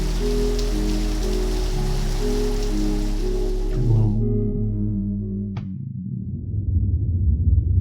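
Rain falls in a Garry's Mod video game map, a steady wash of droplets with a low musical drone underneath that drops out partway, leaving a rougher, closer rain hiss alone.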